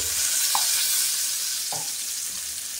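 Fish frying in a pan with green chillies and mango, a dense, constant sizzle with a couple of brief stirring knocks, close and with no voices.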